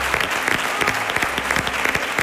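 Close, crisp clapping from a standing audience at Río Grande del Guadaira continues for a flamenco singer, a brisk, uneven patter of hands with no talking.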